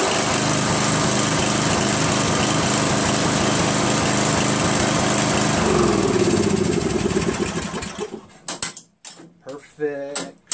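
A Craftsman 13.5 rear-engine riding lawn mower, rewired straight to the magneto, runs loud and steady up close, then winds down and stops, followed by someone talking.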